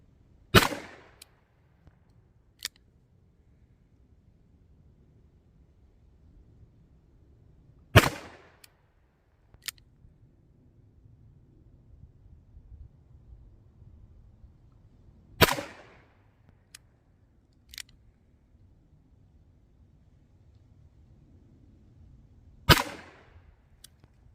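Smith and Wesson 10-10 bull barrel revolver fired at the range, four sharp, loud single shots spaced several seconds apart, with quieter clicks and faint handling noise between them.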